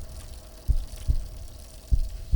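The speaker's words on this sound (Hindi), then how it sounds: "वो है उसके दिल की धड़कनें" A heartbeat sound effect plays in a scene from the film Dhruva: low, dull thumps come in pairs over a soft background hum, with no speech.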